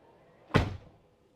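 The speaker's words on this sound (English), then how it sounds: "You can open your doors, close your doors with a press of a button." Tesla Model X Plaid door closing automatically at the press of a button, ending in a single solid thunk that rings briefly and fades, close by against a quiet background.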